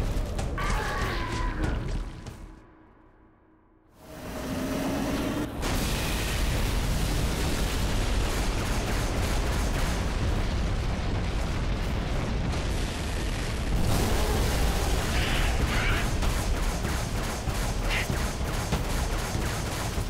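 Grenade blasts and heavy gunfire in Halo 3 pound on through a loud, dense battle, with a brief muffled lull early before the booming explosions and bursts resume.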